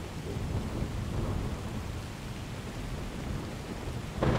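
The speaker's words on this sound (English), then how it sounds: "The rain is so heavy, you can't see more than a few metres in front of you." Heavy rain pours in a dense, steady roar during an overhead thunderstorm, with a low rumble of thunder underneath, loud and continuous throughout.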